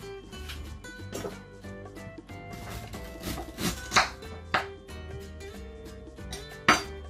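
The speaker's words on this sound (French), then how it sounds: "maintenant je vais venir hacher le gingembre juste à le tiers de la racine et le piment" Ginger root and chili are chopped on a board, scattered knife taps and light clinks of utensils over background music, with a few sharper knocks near the end.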